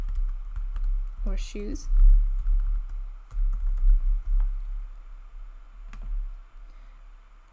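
Computer keyboard typing with a few mouse clicks, a quick run of close, light tapping under a voice, with scattered clicks afterward.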